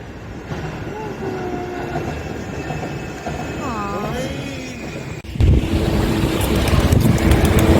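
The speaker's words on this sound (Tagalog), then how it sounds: "So the train is coming" A hanging suspended train arriving outdoors, with rising and falling metallic squeals and whines over a steady rolling rumble, growing louder and closer before a sudden heavier roar as it pulls in.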